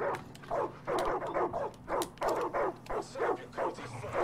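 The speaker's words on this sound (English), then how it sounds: "Oh, look at all the doggies." A pack of dogs in the Far Cry 5 video game barks in rapid, repeated bursts, loud and close, mixed with yips and whimpers.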